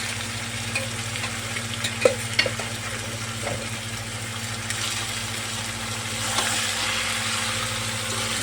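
Chicken meat dropped into a hot pan, sizzling steadily with a few sharp spatula clinks early on and a low hum underneath, no talk.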